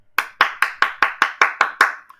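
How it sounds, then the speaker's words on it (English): Eight sharp hand claps in a steady, even rhythm, close and loud with no voices, the last one cut short. "Let me go on and give you some applause."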